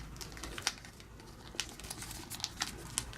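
Origami paper spinner flaps are folded by hand, making soft, close crinkles and sharper paper snaps at irregular intervals over quiet background hiss, faint and with no talk.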